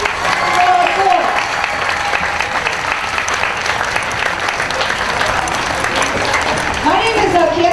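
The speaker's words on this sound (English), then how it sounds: "how about one more round of applause for our court?" Sustained loud applause from a fair audience for the court at a 4-H fair bump and run event, many hands clapping steadily and densely throughout, with faint voices and a short tonal sound near the start and end.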